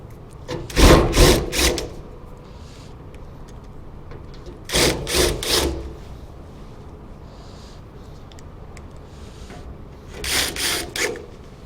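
Three short bursts of a power drill driving screws through a gutter corner bracket, each whirring for about a second, spaced several seconds apart with quiet room tone between.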